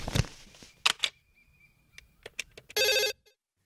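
A landline telephone rings in a dramatic film scene, a short burst of electronic ringing near the end after a few scattered clicks and knocks, fairly close and clear with no one talking.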